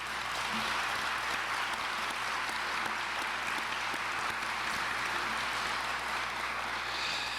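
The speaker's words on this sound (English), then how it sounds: "Let's give them a big round of applause." Steady, dense applause from an audience fills San Antonio's City Council chambers at a mayor's farewell address, an even roar of many hands clapping throughout with no talking.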